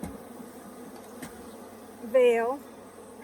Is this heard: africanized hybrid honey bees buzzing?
yes